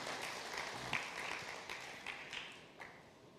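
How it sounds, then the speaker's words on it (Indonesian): A church congregation claps during a sermon, a fairly quiet and diffuse wash of hands with a few sharper bursts, heard from some distance. "Berikan tepuk tangan yang meriah buat Tuhan."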